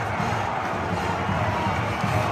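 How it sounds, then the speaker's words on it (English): Crowd noise fills a basketball arena after a close Boise State win, a steady, loud roar of cheering voices sustained throughout without a break. "We do have a reaction of the crowd at the end of the game."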